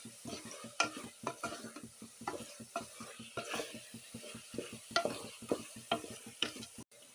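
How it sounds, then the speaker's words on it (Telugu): Ginger garlic paste fries and sizzles in a pan while being stirred, with a steady run of soft scraping strokes and crackles close by, with no talking. "ఇప్పుడు ఇందులోకి 2 టేబుల్ స్పూన్ల అల్లం వెల్లుల్లి పేస్ట్ తీసుకోవాలి. ఈ పేస్ట్ బాగా ఫ్రై అయిపోయిన తర్వాతకి"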